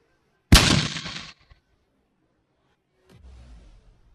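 A sudden heavy fiery blast for an animated Blazing Fire Palm martial arts attack, loud and roaring for under a second, then a softer rumbling impact after a pause.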